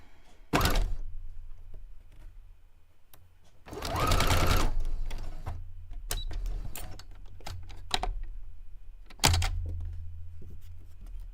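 A sewing machine runs in three separate bursts, stitching a curved seam on a pair of pants made from lofty fabric, with a short run first, a longer middle run and a brief final one amid quiet handling thunks.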